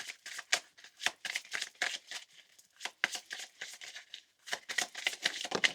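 A deck of cards is shuffled in repeated quick riffles and flicks, close and fairly quiet, with short pauses between bursts and no talking.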